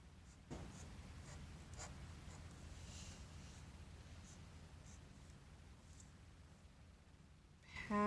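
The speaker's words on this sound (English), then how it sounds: "I'm going to draw a couple lines." A pen draws lines across a paper treasure map, giving a steady close scratching rasp that runs for several seconds, ending in a faint click.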